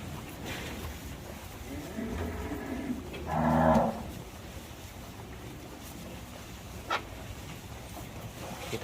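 A foreign-breed beef cow weighing over 100 kilos lets out a single short moo of moderate loudness, standing out from a low, steady outdoor background.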